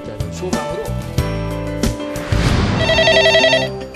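A telephone ring with a steady, repeating electronic tone rises over dramatic background music, loud and close, with no talking.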